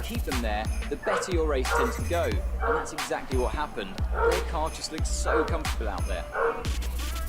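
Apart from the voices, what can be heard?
dog barking in the room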